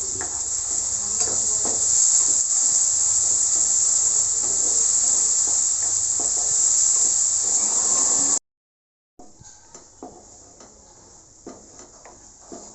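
Onion, tomato, garlic and ginger masala ground to a paste sizzles steadily in a frying pan for an egg curry, a loud constant hiss with small stirring scrapes, briefly cut off and then resuming more quietly.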